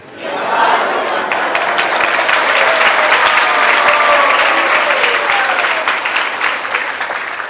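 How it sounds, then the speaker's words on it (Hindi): Audience applause at a spiritual discourse in Juhu, Mumbai, a dense, steady wash of many hands clapping that swells in and holds loud for the full stretch, with a faint crowd murmur underneath. "जैसे मैंने बोला, आप तालियां बजाने लगे।"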